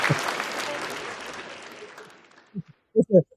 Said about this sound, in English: I'm gonna clap on that